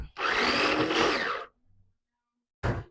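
A kitchen mixer grinder whirring loudly as it grinds onion, dal and potato, running steadily for over a second before stopping, then a brief second burst near the end.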